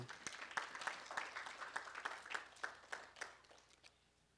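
A church congregation applauding together, rhythmic clapping at a steady beat that is fairly faint and fades slightly toward the end.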